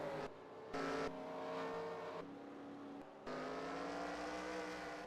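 A race car in a sim racing game pulls away from pit road at the Charlotte Roval, its engine revving and climbing through several sharp gear shifts, loud and close throughout.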